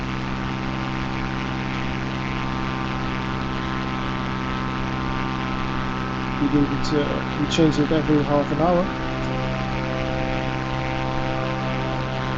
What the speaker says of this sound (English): Now the airplane will bank to the left, follow the GPS course.